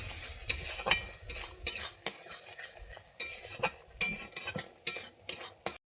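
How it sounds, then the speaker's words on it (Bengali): A spatula stirs and scrapes spice masala sautéing in a pan with water for a Bengali vegetarian sola kochu curry, giving irregular close clinks and scrapes over a soft sizzle. "জলটা দিয়ে আমি এবারে আরেকটু ভালোভাবে কষিয়ে নিচ্ছি যতক্ষণ না তেল ছাড়ে"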